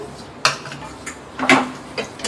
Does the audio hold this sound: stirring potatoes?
yes